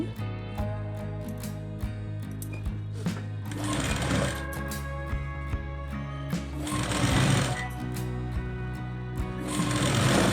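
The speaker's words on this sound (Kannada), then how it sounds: "ಈ ಥರ ಸ್ಟ್ರೈಟು ಸ್ಟಿಚ್ ಹಾಕೋದು" A sewing machine runs in steady bursts while stitching a straight seam on a blouse, its rapid mechanical chatter near and loud, pausing briefly between runs and surging again.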